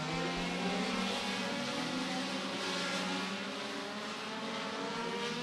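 Compact race cars running hot laps at Beckley Motor Speedway during the SCDRA Compact Clash, a continuous droning roar of several engines circling the track at a distance.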